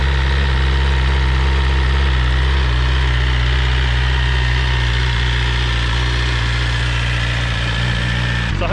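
Brand-new 2022 BMW S1000R sport motorcycle engine idling close by, a steady loud low hum with an even, unbroken drone and a faint change near the end.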